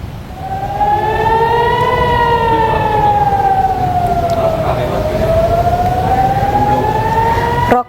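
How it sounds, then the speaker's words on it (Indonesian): An air raid siren wails during a Hezbollah rocket attack on Nahariya, rising and falling slowly in a long, continuous tone over a constant background rumble, loud and sustained throughout. "Sirine pun terus berbunyi tanpa henti saat rudal memasuki langit kota Nahariyah"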